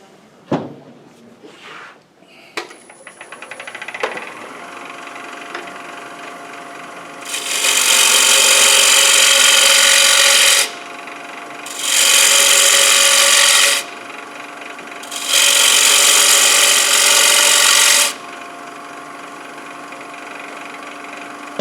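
Wood lathe turning with a tool cutting down the rim of an economy bowl: three sustained bursts of loud, hissing, scraping cuts separated by brief pauses, preceded by quieter handling knocks.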